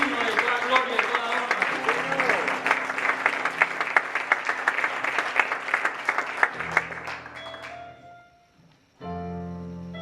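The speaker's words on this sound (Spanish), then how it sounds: "Si me vas a aplaudir, apláudele a Dios" A church congregation breaks into loud, sustained applause with sharp individual claps, and voices talk underneath. The clapping thins out and dies away near the end, leaving quiet and then a sustained musical tone.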